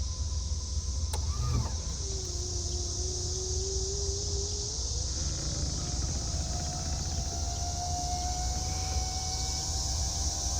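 Power convertible top motor on a 1970 Chevrolet Impala whines as it runs, the pitch dropping and then rising steadily over several seconds beneath a low idling engine rumble, no voices.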